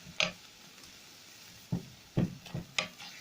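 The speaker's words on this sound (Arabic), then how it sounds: "وبعدين هبدا اقلب واسيبها لما الفلفل تشرب الفلفل الاسود معانا كده." Chicken liver and gizzards with black pepper frying in a pan, with a low steady sizzle broken by a few sharp scrapes and clinks as they are stirred, quiet and close, no talking.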